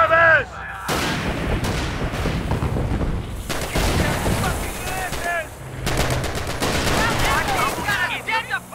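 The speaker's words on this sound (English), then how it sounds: "Get the machine gun into service!" Machine gun fire in the World War II strategy game Company of Heroes, set in 1944: loud repeated bursts of rapid gunshots with booming impacts, overlapping battle noise and shouted voices throughout.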